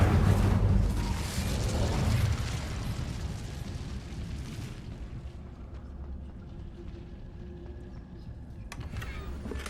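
Hogwarts Legacy's Incendio fire spell goes off with a loud fiery whoosh and rumbling burst that trails away into a low crackle and quiet ambience.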